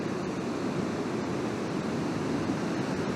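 Loud ocean waves crash and wash continuously in a dense roaring surf, close by with wind buffeting, and no voices.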